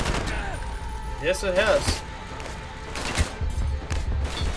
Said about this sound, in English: You're getting shot up!